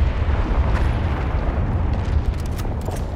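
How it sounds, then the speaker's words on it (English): A massive explosion in the Halo Infinite video game, a loud sustained rumbling roar with crackling debris bursts throughout, dense and continuous with no voices. "So there's the explosion."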